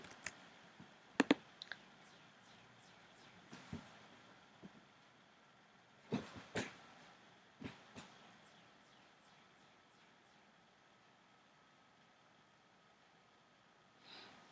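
Sparse mouse clicks on a library database search page, a few sharp separate clicks spread over a quiet stretch with faint room noise and no talking.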